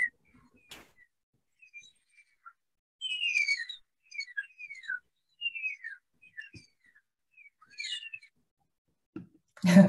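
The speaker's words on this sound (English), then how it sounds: "a little taste of beluga vocalizations that they make with their blowhole" High, squeaky beluga whale whistles and chirps made with the blowhole come in scattered bursts, sliding up and down in pitch, with a few sharp clicks between them.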